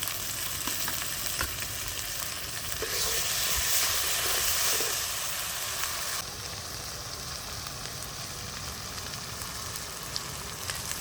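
Spices with chili paste and ground coriander paste fry in a pan, giving a steady loud sizzle that swells briefly in the middle and then settles into a continuous hiss, with no talking.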